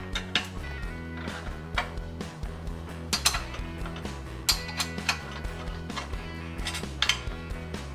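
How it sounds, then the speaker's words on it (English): A Tapco brake being tuned up, a bolt loosened through the pivot arms of its power link with a 7/16 wrench and an Allen wrench, giving a busy run of metallic clicks, ratcheting and tool clanks, close and continuous. "remove the bolt on the bottom of the power link, which goes through the pivot arms, using a 7/16 wrench and the Allen wrench"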